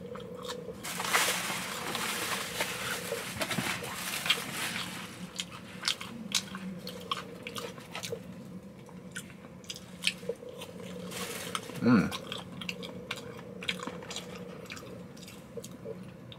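Someone eating Raising Cane's crinkle fries up close, with soft bites, chewing and mouth noises spread through a quiet room and one louder crunchy moment near the end.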